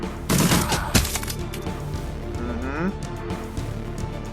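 Gunfire in the video game Shadowrun Dragonfall: a dense burst of several sharp shots early on, then a single crack, followed by quieter electronic effects with someone talking over the game.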